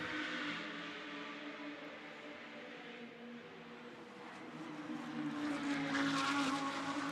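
GT2 race cars of the Fanatec GT2 Europe 2024 series run on the Hockenheim circuit, their engines forming a sustained droning roar that dips and then swells louder near the end as cars pass.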